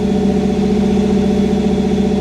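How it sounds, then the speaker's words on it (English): A Chevrolet C10 pickup's engine runs close and loud with a steady, even hum, holding a constant pitch rather than rising or falling. "I want to see if I rev it, if it goes lower."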